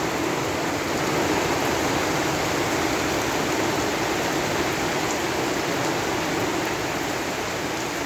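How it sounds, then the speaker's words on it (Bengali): Steady rain falling in the morning, with runoff water trickling down toward lower ground; a dense, continuous hiss of rain and flowing water that holds even and close throughout, with no voices. "বৃষ্টির পদচারণা আমরা লক্ষ্য করছি"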